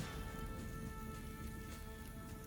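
Steady rain falling at a campsite in Harold Parker State Forest, a soft, even hiss of drops pattering on surfaces, faint and continuous with no voices.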